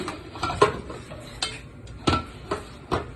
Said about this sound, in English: I am going to go ahead and put a lid on it as well.